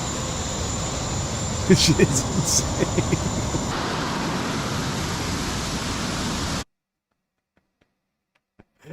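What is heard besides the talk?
small jet engine roaring, person strapped to rocket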